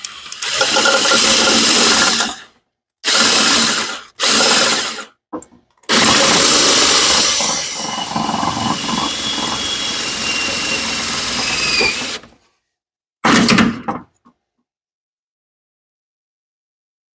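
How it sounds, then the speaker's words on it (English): An electric drill whirs in several loud bursts of a few seconds each, separated by short pauses, followed by one long steady run of about six seconds and a final brief burst, close to the microphone with no voices. "my drill's not turned on in the right direction"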